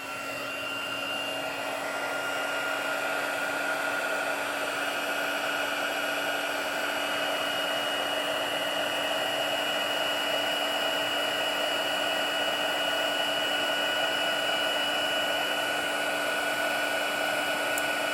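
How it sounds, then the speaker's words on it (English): Heat embossing tool blowing hot air steadily to melt embossing powder, a constant loud whirring hiss with a fan hum running unbroken throughout, no talking. "So now the heat tool is warm enough that I see it starting to melt the powder."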